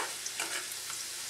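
Shallot and ginger fry in hot oil, giving a brief, close hiss of sizzling with faint stirring taps and no talking.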